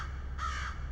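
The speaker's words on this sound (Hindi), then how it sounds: "भाई पौंडीचेरी में कौवा पुकार रहा है" One short, hoarse caw from a crow in a movie scene, close and clear over a steady low background hum.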